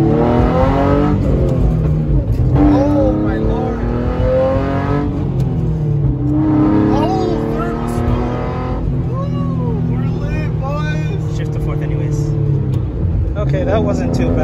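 A 2010 Hyundai Genesis with a manual gearbox accelerates through several gear changes, its engine note rising and falling in repeated sweeps, heard from inside the car under almost constant talking.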